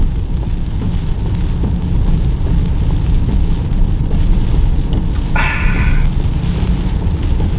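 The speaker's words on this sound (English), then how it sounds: "it started to lash rain, so hopefully you guys can hear me in this weather" Heavy rain lashing down outdoors, a dense, loud, steady hiss that fills the whole stretch, with a brief brighter splash or passing swish near the end.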